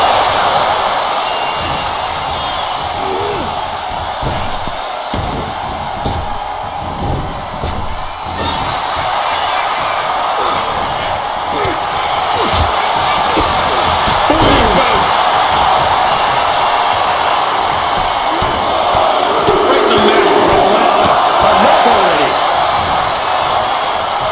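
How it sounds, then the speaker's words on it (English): Wrestling arena crowd in the WWE 2K25 video game, a steady loud roar of cheering with occasional slams and impacts from the ring, continuous throughout. "listen to this crowd driving these competitors to leave everything out in the ring"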